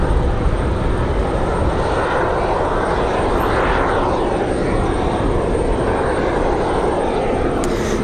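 A Boeing 737 at Raleigh-Durham International passes on a windy day with a loud, close engine roar whose pitch sweeps as it goes by, eight seconds of steady noise with no talk.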